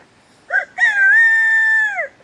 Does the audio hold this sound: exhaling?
no